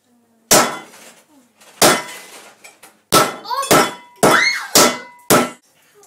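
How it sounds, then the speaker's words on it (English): Five heavy hammer blows land on chicken with pauses between them, each a loud dull thwack with a ringing clatter of a pan underneath. "Now I'm going to beat it with the hammer."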